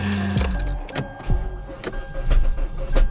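A pickup truck engine cranks and catches with a few sharp mechanical clunks, then settles into a rough, uneven idle close by.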